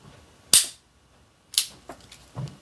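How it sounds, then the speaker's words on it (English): Trigger clicks of a Smith & Wesson 442 revolver, two sharp close clicks about a second apart followed by a few fainter mechanical ticks, in a quiet room. "So you can literally hear that second click."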